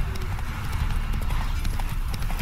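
A horse in The Witcher 3 gallops with a fast, steady clip-clop of hooves, close and continuous, over a low rumbling game ambience.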